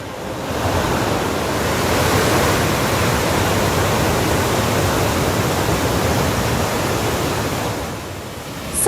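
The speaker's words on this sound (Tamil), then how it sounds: "கோவை குற்றாலம் அருவியில் ஆர்ப்பரித்து கொட்டும் வெள்ளம்." A flooded waterfall at Courtallam falls near Coimbatore roars with a loud, steady, dense rush of water close by, swelling briefly and holding constant throughout, with no voices.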